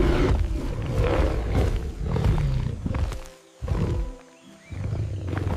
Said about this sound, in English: It's a tiger.